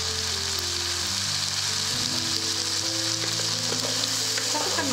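Olive oil sizzling and frying steadily in a pan while cooking a vegan dinner, a constant close crackling hiss with occasional stirring or scraping sounds.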